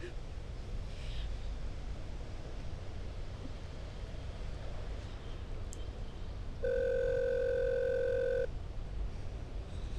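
A telephone dial tone sounds steadily for nearly two seconds during a call attempt, clear and moderately loud, following quiet room noise with faint background sound.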